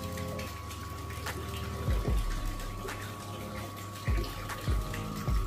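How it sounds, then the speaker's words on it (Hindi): Water runs steadily through a homemade air cooler, a continuous wet trickling wash with a constant pump hum beneath and a few low knocks. "ये देखिए दोस्तों हमारे कूलर में पानी चालू हो गया है।"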